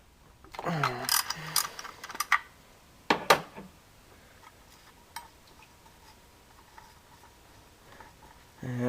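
A ratchet works a 10mm bolt on the engine of a 1996-2004 Mustang GT, giving a few sparse, quiet mechanical clicks after someone speaks briefly at the start.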